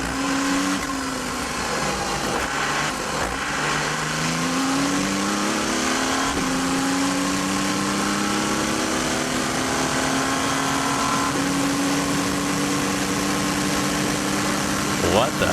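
Onboard an Audi R10 TDI V12 turbodiesel race car at Le Mans, the engine drones loudly and continuously, its pitch climbing and dropping through gear changes, with a voice talking over it.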